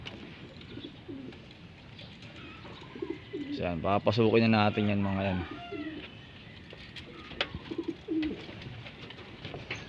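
A pigeon coos loudly and nearby in a short throaty burst, with a person speaking around it and other racing pigeons faintly in the background at their home loft in San Ildefonso, Bulacan.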